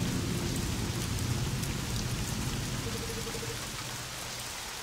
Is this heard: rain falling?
yes